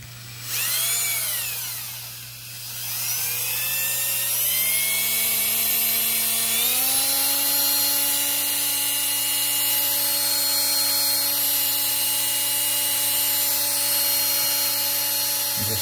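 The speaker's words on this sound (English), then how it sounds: "Just run the hone in there." Power drill spinning a hone inside a master cylinder bore on an International pickup, a close whining drone that dips and then climbs in pitch before holding steady, sounding alone without speech.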